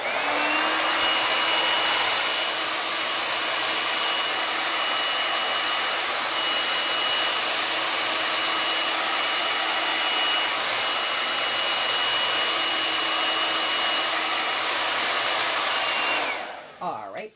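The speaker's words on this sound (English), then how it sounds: "I'm going to use a handy dandy blow dryer on cool to dry this" A handheld blow dryer on its cool setting runs steadily for about sixteen seconds, drying a chalk transfer for a craft sign. The motor's roaring whoosh stays close and loud with no talk, then cuts off abruptly at the end.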